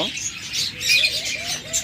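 Budgerigars kept for sale chirp in a cage, quick thin high warbles rising and falling continuously, fairly close and without talk.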